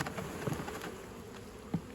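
Honey bees hum and buzz around two hive colonies during a summer nectar flow, a close, steady drone with individual insects passing near, no talking.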